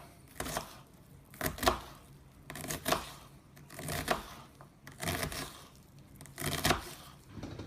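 A knife cuts through an onion into small cubes, making a series of close, crisp slicing strokes in irregular bursts with short pauses between them.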